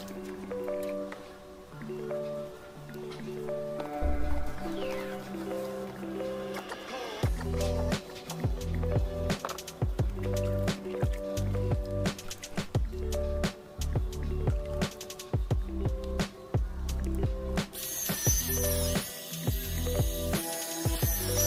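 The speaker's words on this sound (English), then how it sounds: "I dipped the brush in some water and after some spin the brush was clean again" A small electric scrubber brush spins and churns through water, with splashing, squishing and clicking over a steady mechanical hum.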